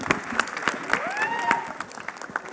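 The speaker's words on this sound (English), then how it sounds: "Big round of applause, ladies and gentlemen." Crowd applause at the launch event of a Box Cricket League, with dense overlapping clapping and sharp, closely packed bursts lasting throughout, while a voice and tonal sounds run underneath.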